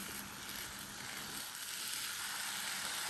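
Food sizzles steadily in a frying pan while a spatula mashes it, a constant crackling hiss with soft scraping thumps throughout.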